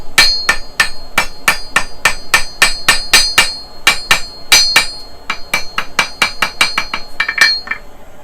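A hammer strikes a steel needle on a small anvil, giving a rapid run of sharp, ringing metallic blows with short pauses, loud and close, with no talk.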